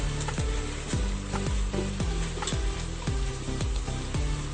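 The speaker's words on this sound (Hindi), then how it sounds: "चलें जी ये देखें कितना अच्छे से हमारा गोश्त अच्छे से फ्राई हो गया है" Goat meat frying with tomatoes, paprika and spices in a pot for tinday gosht curry gives a steady sizzle, with regular scraping, clanking stirring strokes about twice a second, close and without speech.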